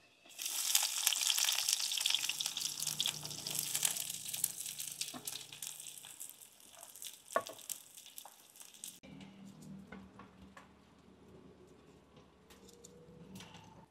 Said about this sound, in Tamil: எண்ணெய் வந்து நல்லா சூடாகிட்டு இதில் கடுகு, வெந்தயம், சீரகம் போட்டுக்கொள்ளுவோம். அடுத்தது வந்து வெங்காயத்தை போட்டுக்கொள்ளுவோம்.